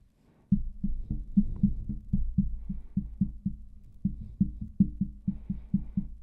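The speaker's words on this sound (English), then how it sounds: "I'm going to start tapping the table and we'll see how it rejects mechanical noise" Steady rapid tapping thuds on a desk holding a dynamic microphone on its stand, low and dull, in a quick regular rhythm lasting several seconds after a brief quiet start.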